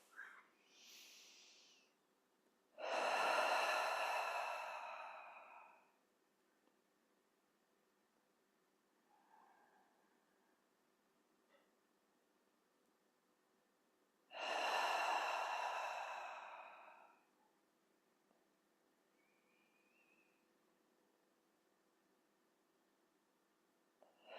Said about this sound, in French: Vous pouvez prendre 3 respirations profondes en inspirant par le nez et en soufflant par la bouche.